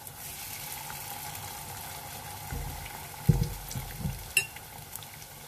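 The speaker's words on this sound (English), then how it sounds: "Scoop 1 tablespoon at one time and fry them until golden brown" Vegetable and anchovy fritters deep-frying in about three cups of hot cooking oil, a constant bubbling sizzle with a few thumps and splashes partway through as spoonfuls of batter go in, close by.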